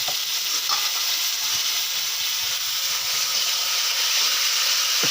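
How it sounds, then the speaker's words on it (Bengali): Chicken meat stir-frying with spices in a kadai over a strong flame, a steady dense sizzle and hiss that holds evenly throughout with no talking. "মাংসটা কষানো প্রায় হয়ে এসছে"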